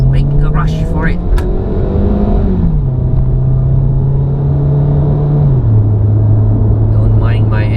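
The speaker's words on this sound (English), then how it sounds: "Don't mind my engine sound, it's an old engine." An old car engine drones steadily while driving toward a toll at sunset, a low continuous hum that dips in pitch a couple of times as the car changes speed, loud and close throughout.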